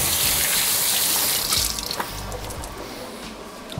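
Tap water gushes steadily into a kitchen sink as food is rinsed under it, a close continuous splashing that dips slightly as the flow shifts halfway through.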